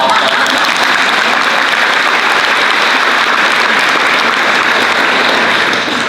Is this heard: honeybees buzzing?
no